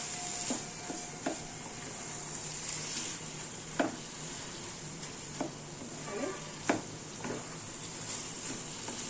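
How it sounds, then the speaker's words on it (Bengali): Banana stem curry being stirred and fried in ghee, with a constant bright sizzle and regular spatula scrapes and taps against the pan, close and fairly loud. "দিয়ে ভালো করে নেড়ে শুকিয়ে নেব।"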